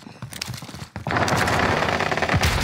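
Rapid machine gun fire in Call of Duty Warzone bursts out and keeps rattling loud and continuous, after a brief scattered exchange of shots at the start.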